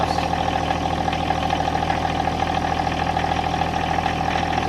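Tractor engine idling while plowing snow on a camp road, a loud steady drone with a constant pitched hum and low rumble, unchanging throughout with no talk.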